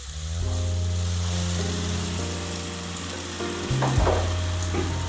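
Tomatoes and vegetables sizzle loudly in a pan with a steady frying crackle, and a few stirring scrapes and clinks come up near the end.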